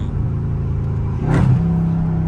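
A Dodge Charger Scat Pack in track mode rumbles steadily from inside the cabin, then its engine note rises and swells midway as it accelerates, staying loud and close.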